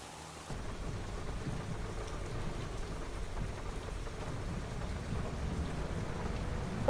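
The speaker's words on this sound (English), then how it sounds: "And there is the rain." Steady rain hisses and patters on surfaces in the video game Farming Simulator 25, with low thunder-like rumbling underneath, constant and moderately quiet after a brief quieter start.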